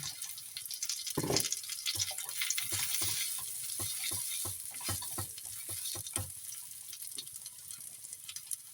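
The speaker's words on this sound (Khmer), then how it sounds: "បន្តមកនាងខ្ញុំដាក់មីចូលចាន" Fresh noodles stir-fried in a pan with fried garlic: loud continuous sizzling broken by rhythmic scraping and tossing strokes of a spatula, close up, with no talking.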